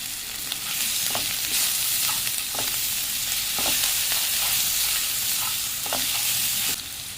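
Garlic paste, salt, turmeric and chilli powder sizzle steadily in a pan, a continuous close fry broken by soft periodic scrapes of a spoon stirring the masala, with no talking.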